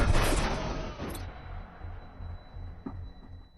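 An explosion in an action film scene, a loud broadband blast at the start that decays into rumbling debris and low hum, with smaller thuds and crackles trailing afterward.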